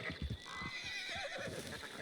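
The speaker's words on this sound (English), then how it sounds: "The horse trampled the sheep." In Red Dead Redemption 2, a horse gives a loud, close, shrill whinny over a quick run of heavy hoof thuds as it tramples sheep, all within a couple of seconds.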